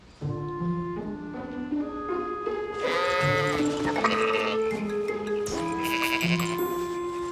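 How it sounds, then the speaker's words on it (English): A male sheep bleats repeatedly, loud and close, with wavering nasal cries running one after another. "He's a boy sheep."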